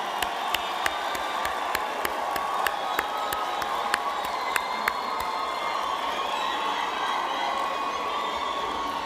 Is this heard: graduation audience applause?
yes